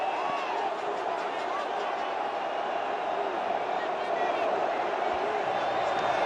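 Vast crowd of Vasco fans singing together in the Arena da Amazônia stadium during a Carioca Championship semifinal against Flamengo, a steady dense roar of chanting voices filling the whole stretch, with a commentator speaking over it.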